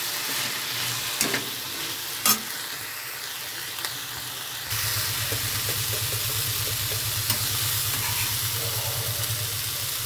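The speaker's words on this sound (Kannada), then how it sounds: "ಅರಶಿನ ಪೌಡ್ರು, ಒಂದು ಸ್ಪೂನ್ ಖಾರದ ಪುಡಿ ಹಾಕಿ ಎಲ್ಲ ಒಂದ್ಸಲ ಮಿಕ್ಸ್ ಮಾಡ್ಕೊಳ್ಳಿ" Ivy gourd fries in a pan as turmeric and chilli powder are stirred in, a steady close sizzle with scraping spoon strokes and a few knocks, turning louder and denser partway through as the mixing continues.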